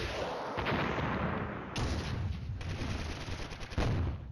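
Mortar fire in the wargame Flashpoint Campaigns: Red Storm, a dense, continuous barrage of booming blasts and crackling gunfire with several sharper impacts standing out, loud and sustained throughout.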